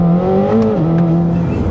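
A Corvette ZR1 engine and exhaust rev with a steady, rowdy drone, rising slightly and then settling, loud and close with no talk over it.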